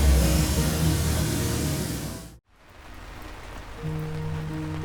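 Rain falls in Hiroshima as a loud, continuous hiss that drops out abruptly partway through. The patter then resumes more softly, with a faint low hum beneath it.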